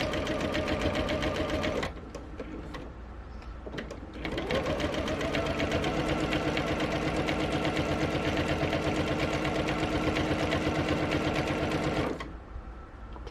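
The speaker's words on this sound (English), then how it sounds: "Now we're going to sew another down this next side," Sewing machine stitching a seam down the side of a decorative pillow case, running steadily and close for nearly two seconds, pausing briefly, then whirring continuously again until near the end.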